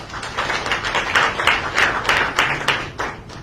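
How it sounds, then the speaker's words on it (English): Applause fills a parliament chamber in Sierra Leone to celebrate a high score of 87.5: a steady, dense patter of many hands clapping together, fairly close and even in loudness throughout. "the celebration should not just stop with the clapping"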